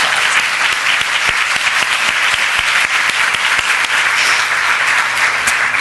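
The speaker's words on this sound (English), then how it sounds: "So let's give them a round of applause." Luncheon audience at a United Way women's leadership event breaks into steady, loud applause, dense clapping filling the room throughout without voices.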